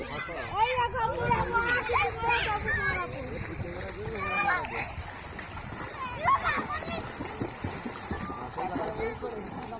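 Children splash about while swimming in a rural village lake, with constant watery splatter and bursts of kids' voices and shrieks mixed through, lively and close throughout.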